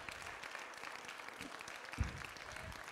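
Church congregation clapping hands during a healing and deliverance service, a steady dense patter of many hands with a few sharper claps, moderately distant.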